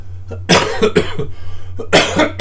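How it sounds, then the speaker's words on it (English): A few harsh, close coughs come in two quick bouts, each a cluster of short throaty bursts with brief pauses between them. "Excuse me, coughing."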